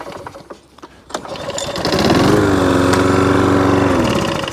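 A Hayter lawn mower engine sputters, then catches and roars up to full revs, holding a loud, steady close-up drone until the end.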